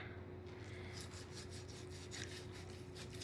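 Knife scoring the skin of a porchetta pork roast, repeated rough rasping strokes sawing through the rind in a steady rhythm, close up with no talking.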